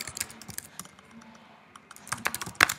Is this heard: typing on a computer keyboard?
yes